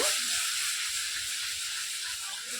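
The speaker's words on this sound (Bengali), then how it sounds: "এবার আমি দিয়ে দেবো দু কাপ পরিমাণে দুধ এক কাপ দিয়ে দিচ্ছি নাড়াচাড়া করে মিশিয়ে নেব" Milk poured into hot caramelized sugar in a pan for tea sends up a steady, bright hissing sizzle that holds evenly throughout, close and moderately loud.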